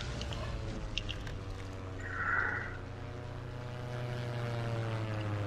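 A World War II propeller airplane engine in the game Ravenfield's Battle of Britain campaign drones steadily throughout, a continuous buzzing hum that swells briefly midway before settling back.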